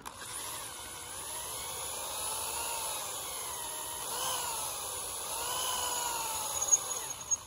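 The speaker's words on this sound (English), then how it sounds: "Definitely time to sharpen up my bits." Bits are sharpened on a grinder in a forging workshop. A faint, steady whine with slowly wavering tones runs throughout, ending in a few small clattering knocks.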